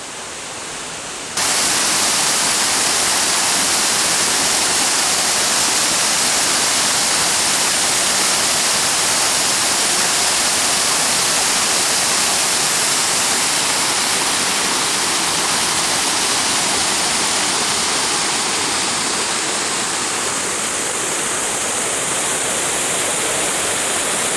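A waterfall at the base of a steep, slippery bowl on the Old Loggers Path roars as a loud, steady broadband rush that holds unbroken throughout, with no voices.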